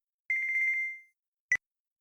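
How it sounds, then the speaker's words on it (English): A phone ringtone in a visual novel game gives a short, bright electronic trill of rapid pulses that fades out, followed after a pause by a single clipped beep, clear and alone. "And that was when my phone rang."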